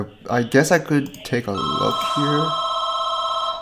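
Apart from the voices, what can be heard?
phone ringing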